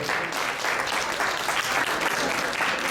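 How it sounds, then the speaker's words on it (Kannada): An audience at a sponsor introduction event applauds the gold sponsor, with loud, dense, steady clapping filling the whole span. "ದಯಮಾಡಿ ಒಂದು ದೊಡ್ಡ ಚಪ್ಪಾಳೆ ಬರಲಿ ನಮ್ಮ ಗೋಲ್ಡ್ ಸ್ಪಾನ್ಸರ್ಗೆ"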